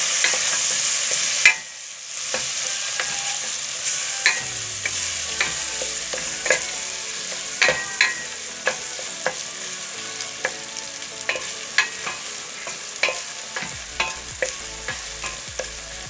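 Tomatoes and beans sizzle in a pan for a Turkish dry bean dish, with a spoon scraping and stirring in regular knocks against the pan over a soft frying hiss.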